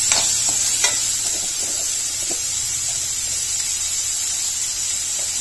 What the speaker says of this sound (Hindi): तो इसको भी मैं 2 मिनट के लिए बस सब्जियों को मैं सॉटे कर लूंगी।